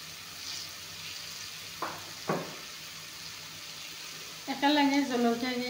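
Small cut pieces of grated ash gourd fry in a pan with a steady low sizzle, broken by two brief stirring scrapes, before a voice starts talking over the hiss near the end.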